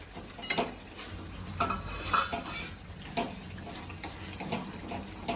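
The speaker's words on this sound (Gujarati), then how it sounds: "હવે એમાં રીંગણા પાછા બધા નાખી દઈએ" Eggplant pieces being stirred into a curry gravy for Gujarati ringan nu shak, with repeated spoon scrapes and clinks against the pot over a low simmering sizzle, close and fairly quiet.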